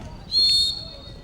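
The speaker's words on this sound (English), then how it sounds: "Hard on the whistle from the umpire" Umpire's whistle at a youth boys' field hockey match gives one short, shrill blast of under half a second, clear above faint background crowd murmur on the pitch.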